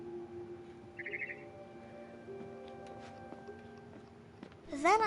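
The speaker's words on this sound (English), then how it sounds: "Then I heard chirping outside my window." A barn swallow chirps briefly outside a window in the game What Remains of Edith Finch, a short high twitter early on over a quiet ambient hum, followed by a louder bright chirping burst at the end.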